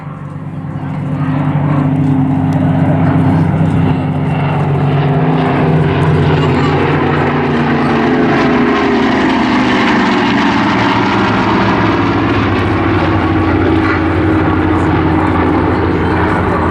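A Battle of Britain Memorial Flight formation led by a Dakota makes a memorial pass at the Southport Airshow, its propeller engines producing a loud, sustained drone that holds steady across the whole pass.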